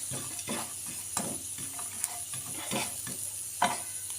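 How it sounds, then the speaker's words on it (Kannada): Food fries in a little oil in a pan, with a soft, continuous sizzle and repeated scraping stirs of a spatula close by. "ನಾನು ಸ್ವಲ್ಪ ಆಯಿಲ್ ಹಾಕಿ ಫ್ರೈ ಮಾಡ್ಕೊತಾ ಇದ್ದೀನಿ."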